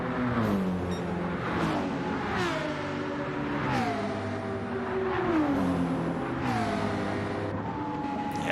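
Racing cars lapping the Nurburgring in a video game, a Nissan and a BMW, engines revving loudly in repeated upshift sweeps, pitch climbing and dropping with each gear change, continuous and close.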